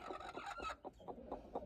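A hen sitting on a clutch of eggs clucks in a quick run of short, throaty calls, fairly faint and close, with no talk over it.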